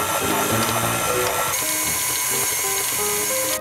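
An electric mixer beats butter and sugar for cupcake batter, a steady loud motor whir with a dense high hum that shifts slightly in pitch partway through.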